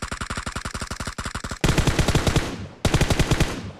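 Rapid automatic gunfire in PUBG on the Miramar map, with long bursts of evenly spaced shots coming close and loud and the rhythm shifting between volleys.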